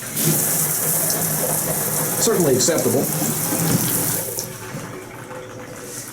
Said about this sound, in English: The pressure isn't the best I've ever seen, but the shower's not bad.